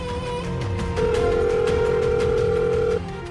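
A steady electronic telephone tone sounds for a couple of seconds, loud and close, with no one picking up.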